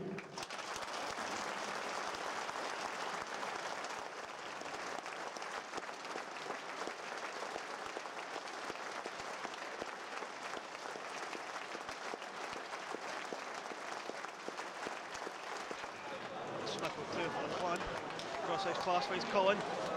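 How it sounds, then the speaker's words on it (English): An arena crowd holds a sustained minute's applause in memory of someone, steady dense clapping that swells slightly toward the end, with voices audible under it. "we remember Jack with a minute's applause"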